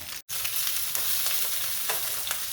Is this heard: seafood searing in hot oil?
yes